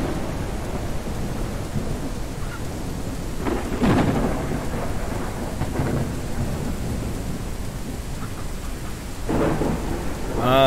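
A heavy thunderstorm in the farming game Ranch Simulator, with steady loud rain hissing throughout and several rumbling, cracking thunder peals rolling in, one strong clap near the middle.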